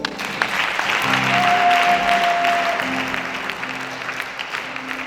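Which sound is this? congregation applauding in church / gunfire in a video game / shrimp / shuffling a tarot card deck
congregation applauding in church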